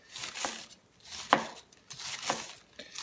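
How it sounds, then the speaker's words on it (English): A knife slices thinly through cabbage for sauerkraut, a few separate crisp cuts landing on a board at an uneven pace, close but fairly quiet, with one sharper chop in the middle. "start cutting your cabbage thinly, like you would for a coleslaw"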